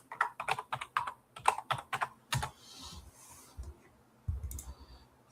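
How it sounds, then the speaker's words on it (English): A password is typed on a computer keyboard with a quick run of close, crisp key clicks. A pause follows, then a few more scattered taps. "don't feel like typing in my doggone password"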